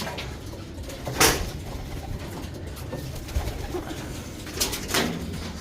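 Soft, low bird cooing repeats against a noisy background of shuffling and faint knocks, with a few brief louder bursts.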